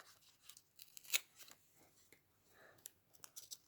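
Crinkly rustles, tears and sharp snips of a thin plastic packet being opened come in irregular bursts, close by and fairly quiet.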